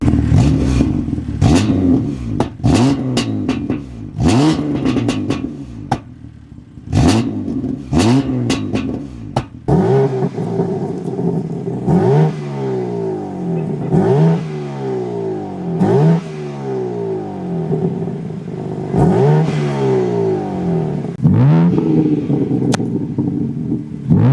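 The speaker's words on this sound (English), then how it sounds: "let's get some more revs on both cars" A BMW F80 M3 engine revs repeatedly in sharp bursts, each rev rising and falling, loud and close, with a gruff, raspy exhaust note between blips.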